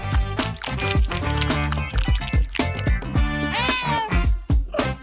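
Cats meow in a lively indoor home setting, with several short, close calls repeating over a busy, loud backdrop of music and other sounds.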